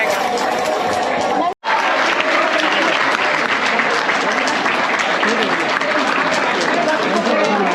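A college audience at Dr. Bhim Rao Ambedkar College claps in a loud, dense, sustained round of applause, broken by a brief dropout early on, then continuing steadily with crowd noise mixed in.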